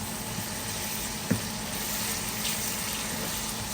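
Steak fajita meat and vegetables cooking down in a pan, giving a steady moderate sizzle with a brief clink partway through, and no talking.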